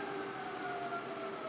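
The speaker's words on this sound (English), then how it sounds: "okay, there's a siren going by out there." A siren drifts by outdoors with steady wavering tones, heard faintly from a distance and continuous throughout, with no voices.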